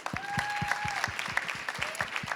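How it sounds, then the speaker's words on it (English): A conference audience gives panelists a round of applause after a diversity, equity and inclusion discussion, with moderate clapping from a modest crowd and a faint sustained tone ringing through the room. "let's just give our panelists another round of applause"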